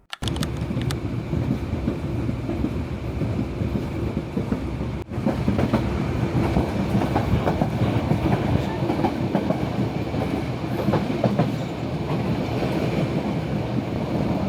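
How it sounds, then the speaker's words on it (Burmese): The Yangon–Mandalay No. 7 up train on Myanmar Railways rumbles along with a steady, loud roar and faint rhythmic wheel clatter, heard from inside close to the noise, with a brief dip midway and little talk. "အခုရထားကရန်ကုန်မန္တလေးအမှတ်7အဆန်ရထားဖြစ်ပြီးတော့"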